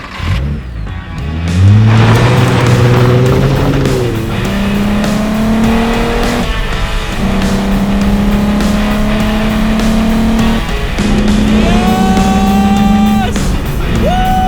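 A Volkswagen Rabbit MK1 with a VR6 engine is driven hard and sounds loud and close from inside. The engine note rises through the gears in several pulls, with short pauses at each shift and tire noise underneath.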